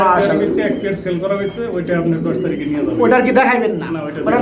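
Pigeons coo softly in a loft full of fancy breeds, their low murmuring calls running steadily beneath close conversational speech throughout.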